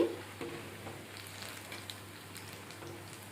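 Mirchi bajji, sliced chili fritters, bubbling in hot oil as an evening snack, a quiet, steady sizzle with faint crackles and a low background hum.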